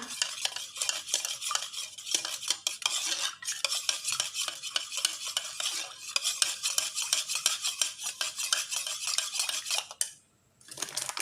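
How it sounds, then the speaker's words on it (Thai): A spoon stirs a lemon soda mixture with rapid, continuous clinking against the glass, close and fairly loud, broken by a brief pause near the end. "คนให้ส่วนผสมเข้ากันดีนะคะพี่น้องให้เป็นเนื้อเดียวกัน"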